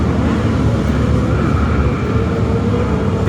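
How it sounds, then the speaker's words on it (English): Steady, loud motor drone of a motorcycle going past on a street, a broad rumble holding at close range for the whole stretch with no clear rise or fade. "Sorry, there's a motorcycle."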